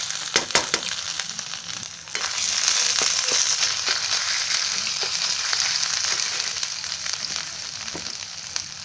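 Ginger garlic paste hits hot oil with mustard seeds and asafoetida on a low gas flame, setting off a few sharp pops and then a loud, steady sizzle that continues close by.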